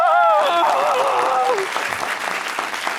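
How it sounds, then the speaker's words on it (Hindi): Studio audience on a TV comedy talk show breaks into applause under a sung or spoken melodic voice, the clapping continuing as a busy wash once the voice fades. "तालियां!"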